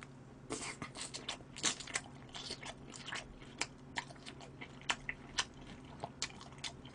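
Smoked duck breast wrapped in chives and dipped in mustard being eaten close up, a string of crisp, moist bites and chewing crunches in an irregular rhythm, with no talk.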